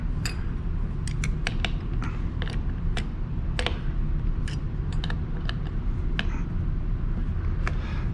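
A router bit is loosened, with a run of sharp metallic clicks and ratcheting ticks spaced irregularly over a dull rumbling background, close up and with no voices.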